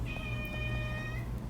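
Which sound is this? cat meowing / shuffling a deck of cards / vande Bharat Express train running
cat meowing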